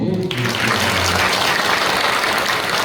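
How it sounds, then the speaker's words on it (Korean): A church congregation applauds at a pastor's installation ceremony, dense hand clapping swelling up after a brief spoken word and continuing loud and steady to the end. "네, 박수"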